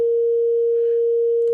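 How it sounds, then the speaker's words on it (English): A pure sine wave synth tone from Ableton Operator, one steady sustained pitch held evenly at constant loudness, clean and alone. "I'm nailing the sine wave, so here's the sound of it."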